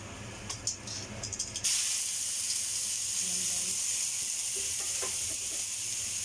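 Mushrooms dropped into hot oil with garlic and ginger give a sudden loud, steady sizzle and hiss. The sizzle starts after a quieter opening and carries on without a break to the end.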